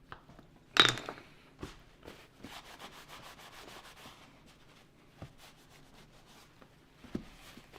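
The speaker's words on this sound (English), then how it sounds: "Just burnishing it off the edge because it's a short little area and it's easier." A leather gauntlet's edge is burnished by hand, soft rhythmic rubbing strokes close up with an opening clack and a few light taps, fairly quiet overall.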